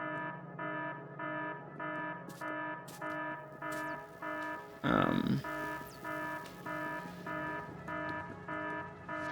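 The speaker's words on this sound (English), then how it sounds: "Oh no, that's a good alarm. That means we finally have enough rocket fuel." An in-game alarm in the factory-building video game Factorio sounds as a repeating electronic tone, pulsing in a steady rhythm at moderate loudness, with a brief burst of louder noise midway.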